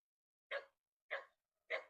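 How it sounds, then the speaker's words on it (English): A neighbor's dog barks three times outdoors, single loud barks spaced about half a second apart, fairly close and with nothing else around them. "Too many dogs barking around these parts."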